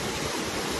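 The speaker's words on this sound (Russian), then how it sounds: "Вот, ребята, это море. Черное море Одессы." Black Sea waves breaking on a crowded beach in Odessa, heard as a steady, fairly loud wash of surf with no pauses and no voices.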